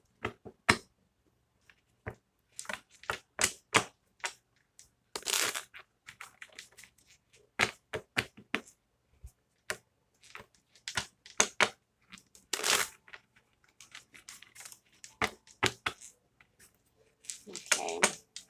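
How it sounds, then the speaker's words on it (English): Tarot cards are shuffled and riffled in repeated bursts of crisp snapping, rapid flutters and soft slaps, close and fairly loud, with short pauses between runs and no speech over them. "we're going to do one more shuffle because I feel like that was such a weak shuffling that I did"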